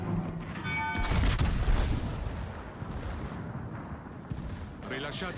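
Heavy naval gunfire in World of Warships, with dense booming salvos and rumbling explosions over continuous loud battle noise, a voice speaking over parts of it.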